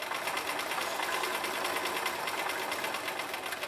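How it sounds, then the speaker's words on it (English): A domestic sewing machine stitching fabric runs steadily at a fast, even pulsing rhythm, fairly quiet and close, with no talking over it. "Pivot means you leave the needle in the sewing machine and scoot the fabric around."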